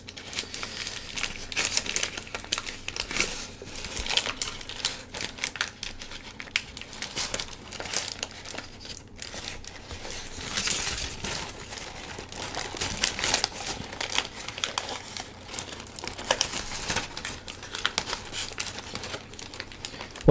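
Large double tissue paper crinkles and rustles continuously as an origami model is folded, a close, steady stream of soft crackling with no talking.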